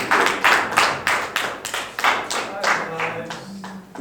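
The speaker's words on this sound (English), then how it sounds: "Come on, let's clap for him." Audience clapping at a property unveiling event, a fairly small group producing a rhythmic run of distinct claps, loud and close, with a few voices underneath.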